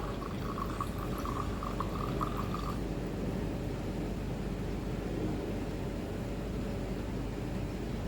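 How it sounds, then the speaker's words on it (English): Water steadily trickling and draining from a separating funnel tap into a container, a continuous soft watery hiss with a faint high tone near the start. "Now what you can do is you just have to open this tap. So the water will get collected first."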